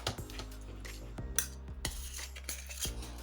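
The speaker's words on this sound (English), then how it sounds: "You can go ahead and just break those up with the spoon easily." A spoon breaks up chunks of canned tuna in a bowl, with quiet clinks and scrapes of metal on dish in short irregular bursts, close and fairly faint, with no talking.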